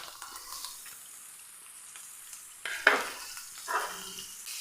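Sliced onions are added to browning ginger and garlic in a pan, giving a soft, quiet sizzle with stirring and a couple of brief louder scrapes near the end.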